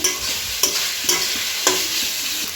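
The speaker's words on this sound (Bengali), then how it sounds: "প্রথমে পেঁয়াজটা রসুনটাকে কড়ার মধ্যে দিয়ে ভালো করে ভেজে নেবো একটু" Onion and garlic fry in a wok for an egg tarka, making a loud, steady, close sizzle with three or four distinct spatula scrapes spaced roughly half a second apart. No one speaks.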